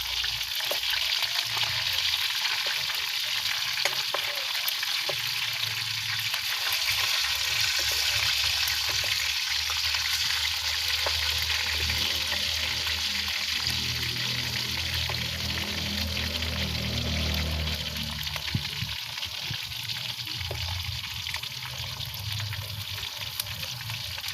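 Pork frying in a pan gives a continuous hissing sizzle with crackling spatter, steady and close for the whole stretch, with a low rumbling undertone and no voices.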